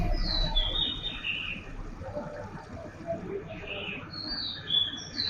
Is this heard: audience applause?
no